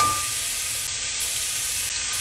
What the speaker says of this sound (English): I am going to now put the steak in.